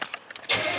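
A truck engine cranks with a few short bursts, then fires and catches about halfway through, settling into a loud, steady running roar to the end.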